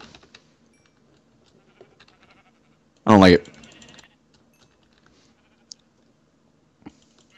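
A single loud, close sheep bleat sounds in a video game amid quiet keyboard typing and faint background noise, with a person speaking briefly.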